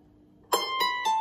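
Manx harp plucking a hemiola pattern, three bright plucked notes at steady spacing ringing into each other, close and clear, alone after a brief quiet start.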